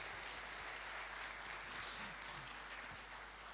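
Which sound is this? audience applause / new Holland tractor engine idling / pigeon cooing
audience applause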